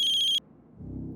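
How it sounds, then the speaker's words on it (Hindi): A landline telephone ringing in a house, a bright electronic trill heard for a moment before it cuts off abruptly, followed by a low murmur. "सनी के राजकोट वाले घर की लैंडलाइन से फोन है।"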